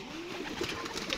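Teddy pigeons coo on a rooftop, a low murmuring call running steadily through the moment amid faint background noise, with no one talking.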